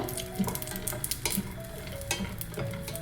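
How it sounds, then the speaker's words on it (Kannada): Peanuts, green chilies and garlic fry in oil over a medium flame, a close, steady sizzle broken by repeated scrapes and knocks of a spoon stirring the pan. "ನಾನು ಮೀಡಿಯಮ್ ಫ್ಲೇಮಲ್ಲಿಟ್ಟು ಫ್ರೈ ಮಾಡ್ಕೊಳ್ತಾ ಇದ್ದೀನಿ"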